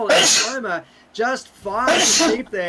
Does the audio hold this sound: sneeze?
yes